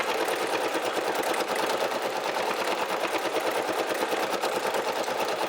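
A Brother SE1900 embroidery machine stitches an Easter basket design with a steady, rapid mechanical chatter. The needle pulses repeat evenly and close by, with no talk over them.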